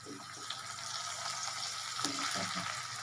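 A soft, steady sizzle and scraping as cooked rice with vegetables is stirred in a kadai over low heat, with occasional light clinks, close and fairly quiet.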